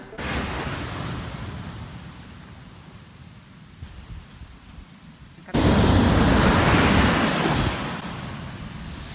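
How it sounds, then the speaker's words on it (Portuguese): Ocean surf crashing at Uluwatu beach in Bali, a continuous roar of breaking waves that softens midway, then surges loud and full again as a bigger set hits the narrow shoreline. "A gente veio aqui numa praia e aí tá super estourando e não tem quase faixa de areia"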